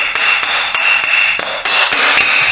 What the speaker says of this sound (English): We're gonna have to give this a few whacks.